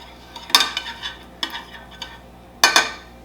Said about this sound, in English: And then we're just going to mix this lightly.